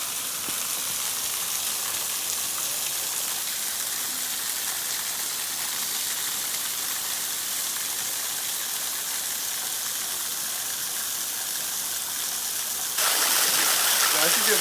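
A waterfall on Alum Hollow Trail in Green Mountain Preserve, Alabama, pouring as a steady broadband rush close by, growing louder near the end as the listener moves nearer.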